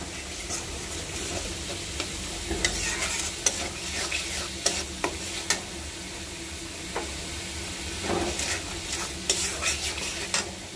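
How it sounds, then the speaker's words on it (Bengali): Spices for a vegetable dish sautéing in a pan give a steady loud sizzle, with frequent quick stirring scrapes and taps of a spatula throughout, no voices. "আমি সবজির জন্য সব মশলা এখানে দিয়ে দিচ্ছি। এখন কষাবো"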